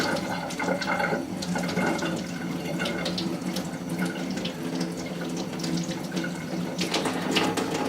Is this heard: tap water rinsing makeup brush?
yes